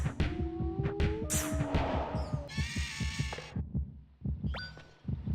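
A heartbeat sound effect from the PSX video game Baroque pulses in a steady, quick double-thump rhythm, with game tones and chimes layered over it.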